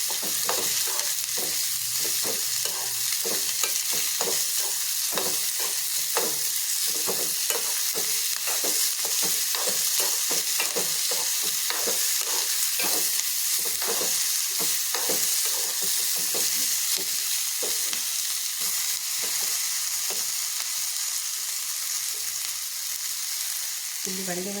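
Tomatoes fry in hot oil in a pan for egg curry, a steady loud sizzle running throughout, with repeated scraping clicks from stirring in an irregular rhythm close by.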